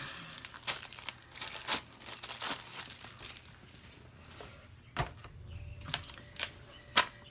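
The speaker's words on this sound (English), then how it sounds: "Okay, get it unwrapped." Cuttlebug die-cutting machine packaging being unwrapped, quiet crinkling plastic and paper with scattered sharp rustles and tears, close and soft throughout.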